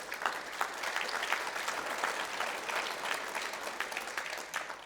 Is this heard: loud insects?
no